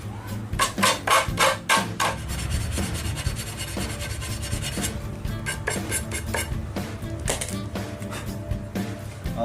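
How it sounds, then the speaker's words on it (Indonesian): Sandpaper rubbing against a steel part of a homemade fish-spear barrel, steady scratchy strokes repeating in quick bursts, close and fairly loud, with no talking. "langsung aja kita amplas"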